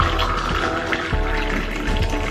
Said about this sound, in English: I'm gonna pour my water,